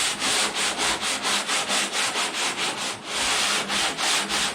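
A long sanding block works body filler on a car panel, making loud, steady back-and-forth rasping strokes at an even rhythm, close up with a brief pause midway and no talking.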